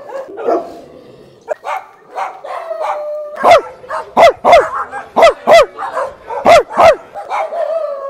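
Several dogs bark in a loud, rapid series of sharp yaps and woofs, close by, with a few whining calls between bursts.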